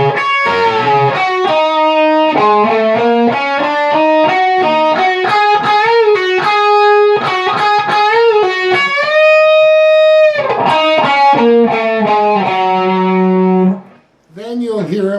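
Electric guitar plays a song's lead lick, a fast run of bright, sustained single notes with bends and a held high note, loud and alone, ending in a brief gap and a final phrase.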